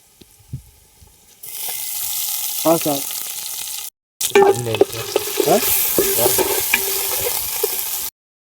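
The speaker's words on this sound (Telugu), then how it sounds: "వేసిన పచ్చిమిరపకాయలు బాగా వేగాక కొద్దిగా అల్లం వెల్లుల్లి పేస్ట్ అయితే వేసుకుందాం" Green chillies and ginger garlic paste frying in hot oil for a duck curry give a loud, steady sizzle that cuts out for a moment and returns, with stirring scrapes mixed in.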